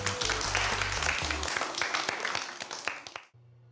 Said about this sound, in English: Let's give yourselves a clap.